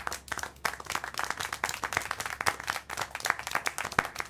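Continuous applause from a small group in the video game Syberia: The World Before, many hands clapping at once in a dense, steady patter with no voices.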